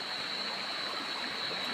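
Steady broadband rush of river water flowing, continuous and fairly close, with no talking over it and a faint high whine running throughout.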